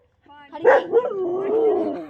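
A single dog gives a sharp yelp, then a drawn-out whining call that wavers in pitch for a second or so; it is close by.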